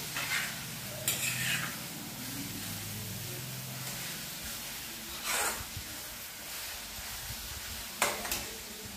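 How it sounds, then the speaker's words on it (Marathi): Spices are stirred in a sizzling cooking pan, with a soft steady fry underneath and three brief scraping strokes of the spoon at intervals. "हे सगळं हलवून घ्यायचं छान"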